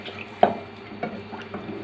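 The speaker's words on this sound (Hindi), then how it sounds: "अब हम इसमें शोरबे के लिए पानी ऐड करना है" Water is poured into a cooking pot of tinday gosht to make the broth, heard as a few splashing bursts and pours with soft drips between, close by.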